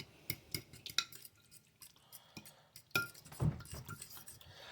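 An egg being mixed in a bowl, with quiet clinks and taps of a utensil against the bowl in short irregular strokes, close but faint, no talking.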